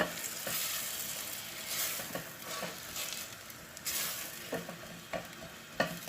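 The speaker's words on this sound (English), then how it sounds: "Anchovies. Good stir." Anchovies and salami sizzle and fry in a pan for arrabbiata while a utensil stirs them, giving a steady close crackle broken by scraping and clinking strokes.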